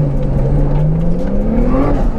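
A Nissan Skyline GTR on a rally stage, its engine droning loud and close with a steadily rising rev as it pulls.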